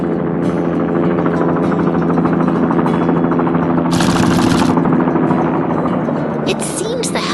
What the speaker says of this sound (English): The helicopter is back in the air, soaring peacefully above the city once more.